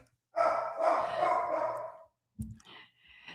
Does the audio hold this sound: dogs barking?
yes